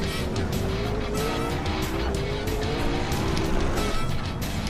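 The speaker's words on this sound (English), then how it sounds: "Here comes Wolf entering the battle of GT cars." GT race cars battle on a circuit, engines roaring continuously at high revs with rising gear-pitch whines and some tire squeal, loud and close throughout.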